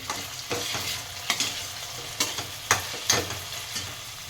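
Curry leaves crackle and sizzle in hot oil in a pan for sabudana khichdi, a soft steady fry punctuated by several sharp pops and spatters at irregular intervals.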